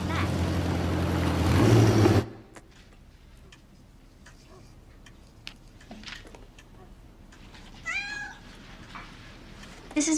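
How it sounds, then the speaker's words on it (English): A pregnant cat lets out a few short, rising meows in a quiet room, heard alone after a brief stretch of louder sound at the start, with faint ticks and rustles between calls. "This is Moji. She's going to have kittens soon"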